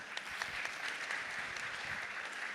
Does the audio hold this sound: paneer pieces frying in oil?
no